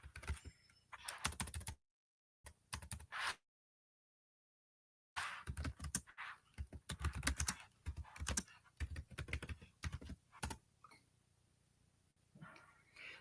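Typing on a computer keyboard comes in fairly quiet bursts of quick keystrokes, broken by short pauses and one longer silent gap.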